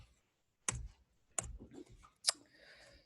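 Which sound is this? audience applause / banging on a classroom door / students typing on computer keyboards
students typing on computer keyboards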